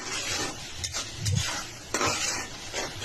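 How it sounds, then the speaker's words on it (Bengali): Duck egg curry with ginger-garlic paste and coriander powder is stirred in a pan, giving faint scraping and clinking over a soft sizzle, in a few uneven bursts. "আবার একটু নেড়ে চেড়ে নিচ্ছি।"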